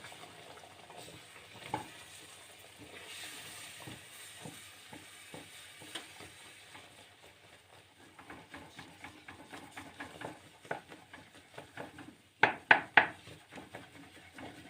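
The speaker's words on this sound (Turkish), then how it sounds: "Geri kalan suyumu da döktüm içine komple. Karıştırıyorum güzelce." Flour halva being stirred in a pan after water is poured into the toasted flour: soft, rhythmic scraping and bubbling that grows busier, then a few sharp spoon knocks against the pan near the end.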